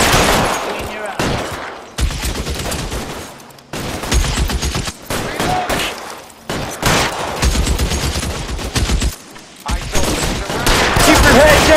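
Shootout in L.A. Noire with dense, overlapping bursts of gunfire and rapid shots, loud and close, running nearly continuously with brief gaps and a few shouted voices mixed in.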